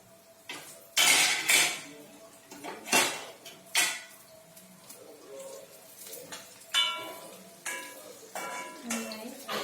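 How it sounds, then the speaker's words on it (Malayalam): Jackfruit pieces are stirred while frying in a pan, with scattered clinks and scrapes of a utensil against metal and bursts of sizzle between them, close and fairly loud. "ചക്ക നന്നായി ഇളക്കി കൊടുക്കുക."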